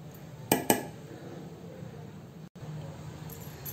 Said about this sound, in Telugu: ఇప్పుడు ఈ పౌడర్ ఈ పొడిని మనము స్టీల్ బౌల్లోకి తీసుకుంటున్నాను